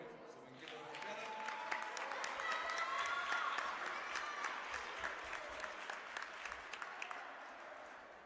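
Crowd at a girls basketball game between Ellenville and Tri-Valley applauds a Tri-Valley player in a gym, sustained clapping and cheering building and holding for several seconds, with voices mixed in and an announcer speaking underneath.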